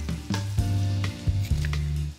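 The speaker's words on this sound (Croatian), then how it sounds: "Malo promiješate samo da se šećer otopi u maslacu." Sugar melting into butter in a pan with orange peel, stirred with a few scraping strokes over a steady close sizzle and a low humming tone.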